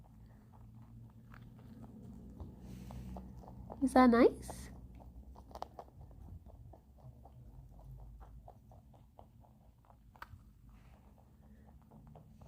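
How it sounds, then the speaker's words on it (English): Rabbits munching their breakfast, with a steady run of small, quick chewing clicks through the clip and a brief louder rustle near the middle. A person speaks softly over the chewing. "You can see some very furious munching from Gerry over there."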